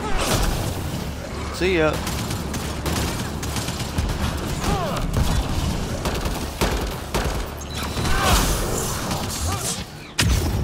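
Grenade blast and heavy gunfire in a Mass Effect: Andromeda firefight, with repeated loud booms and bursts across the whole stretch, a voice calling out over the combat.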